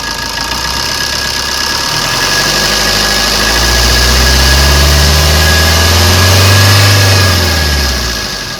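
A 2014 Maruti Suzuki Swift VDI diesel engine idles steadily, then revs up through a long rise in pitch and falls back, loud and close, with no talk.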